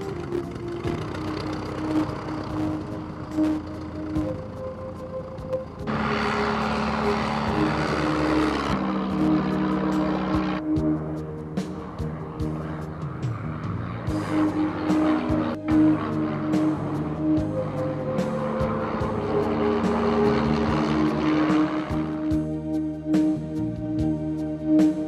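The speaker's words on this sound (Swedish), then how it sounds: "Och så är Tigermåtten strax i luften igen." A Tiger Moth biplane's engine drones steadily in flight, rising and falling in pitch as it passes, loud and continuous with no talking.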